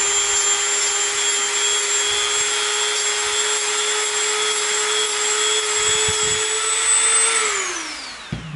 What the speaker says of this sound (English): So always use your dust mask when you're Dremeling.